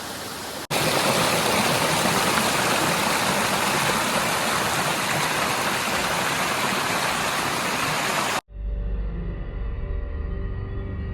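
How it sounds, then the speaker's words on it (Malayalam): A triple waterfall flowing gives a loud, continuous roar of rushing water that cuts off abruptly near the end, leaving a low, muffled rumble. "ട്രിപ്പിൾ വാട്ടർഫാൾസിൻ്റെ പുതിയ ഒരു മുഖം ഇതാണ് കേട്ടോ"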